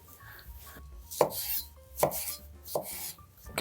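Cucumbers are chopped with a knife on a cutting board, three sharp, evenly spaced knocks standing out clearly with no talking.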